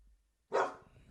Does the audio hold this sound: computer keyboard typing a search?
no